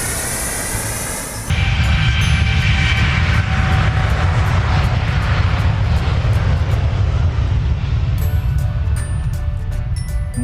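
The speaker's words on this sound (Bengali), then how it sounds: "ইঞ্জিনের শব্দে চারপাশ কাঁপিয়ে বিমানটি রানওয়ে ধরে দৌড়ানো" An airplane engine roars as the plane runs down the runway for takeoff: a loud, steady, broadband roar that begins abruptly after a brief quieter opening and holds to the end.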